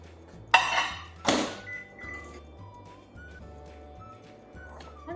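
Melted Kerrygold butter is stirred in a bowl with Parmesan for a shrimp stuffing, giving two sharp clinks of utensil on bowl followed by soft scraping and quiet knocks in a kitchen.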